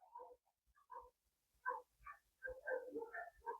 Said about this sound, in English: It's the next door neighbor's dogs.